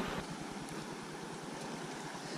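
The Sono River in Jalapão, Brazil, rushing steadily while being crossed, a continuous loud wash of moving water with rhythmic low churning throughout and no talk.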